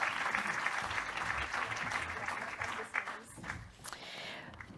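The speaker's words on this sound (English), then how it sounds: "we can give them a warm round of applause" A warm round of audience applause at an infrastructure industry panel event, steady massed clapping that thins and tapers toward the end, with a voice faintly mixed in.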